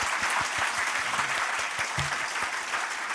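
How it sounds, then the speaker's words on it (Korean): Church congregation claps after a hymn at a Sunday morning worship service, a steady wash of many hands with a few sharper individual claps standing out, and a faint voice murmuring underneath. "찬양을 마치고 나서 박수를 할 것 같으면 우리가 좀 더 열렬히 했으면 좋겠어요"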